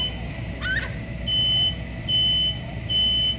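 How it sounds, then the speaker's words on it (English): A smoke detector goes off during a home fire demonstration, giving a shrill, steady electronic tone in repeated pulses, each about half a second long, over a low rumbling background. "See how quickly that smoke detector reacted?"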